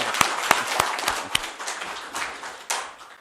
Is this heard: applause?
yes